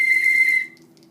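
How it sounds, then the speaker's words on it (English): A whistle with a small marble rattling inside is blown once, giving a loud, steady trilling tone that cuts off after about half a second. "There's a little marble or something in there that makes the noise when you blow."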